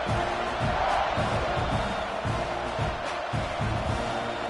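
A football stadium crowd roars in College Football 26 before a kickoff, a dense, continuous wall of cheering and whooping at moderate distance that holds steady throughout.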